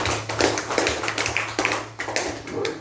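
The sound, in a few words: class clapping for a pupil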